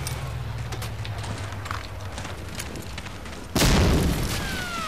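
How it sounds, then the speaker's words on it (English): A frag grenade goes off in Medal of Honor: Allied Assault as one sudden loud blast that cuts through steady game noise and fades into a long rumbling tail. "A frag grenade."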